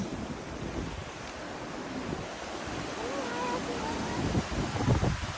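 Water rushes steadily over a dam in rural Australia, a broad continuous roar with wind buffeting the microphone, and faint voices are heard now and then underneath.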